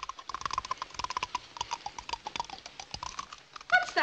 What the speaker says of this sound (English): Like typewriter keys.